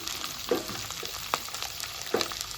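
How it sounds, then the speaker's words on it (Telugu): Mustard seeds crackling with curry leaves and green chillies frying in hot oil in a home kitchen, giving a soft steady sizzle with a few sharp pops scattered through it. "టపా టపా చెట్పట్లు చెట్పట్లాడిపోతున్నాయి కదా అవి ఇప్పుడు వెంటనే కరేపాకు వేసేసుకున్నాం అలాగే పచ్చిమిర్చి"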